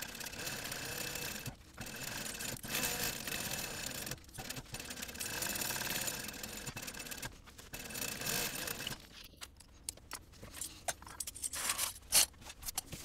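A sewing machine bastes fabric with piping around a bag panel. It runs in steady, close, loud whirring bursts broken by brief pauses, then gives way to scattered clicks and handling sounds near the end.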